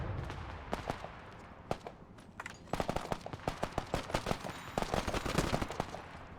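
War video game combat with irregular gunshots, from isolated cracks early on to rapid clustered bursts of automatic fire, fairly close and sharp, no talk over it.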